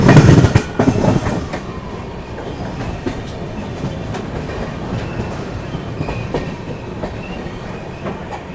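The Brahmaputra Mail rolls through a wide railway yard near Rajendra Nagar, with steady clickety-clack of wheels over rail joints, a few louder clanks early on, and faint squeals under a continuous rumble, with no talking.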